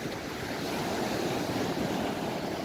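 Sea waves roll onto a beach in a steady, continuous wash of surf, close and moderately loud, with some wind noise and no voices.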